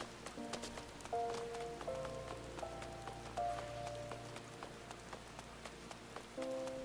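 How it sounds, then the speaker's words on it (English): Rain falls in Final Fantasy XIV as a steady, soft patter with scattered drop ticks, mixed under gentle in-game music tones, with no speech. "Oh, dang, it's raining."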